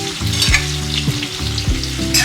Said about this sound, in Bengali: চিংড়ি মাছ ভাজা চলছে